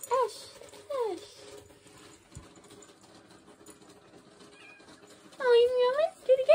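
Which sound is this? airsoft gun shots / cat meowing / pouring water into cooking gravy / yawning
cat meowing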